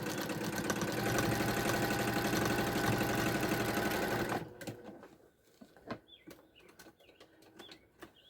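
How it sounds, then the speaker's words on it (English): A sewing machine runs steadily for about four seconds while stitching a narrow edging along a pouch-style makeup bag, then stops, leaving faint handling clicks and light rustles of fabric. "here you can see where I've sewed that edging like 1/8 of an inch on both sides."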